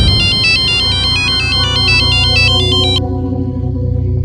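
A phone rings with a loud electronic ringtone, a rapid repeating chime that plays for about three seconds and then cuts off, over a low background hum and with no talk.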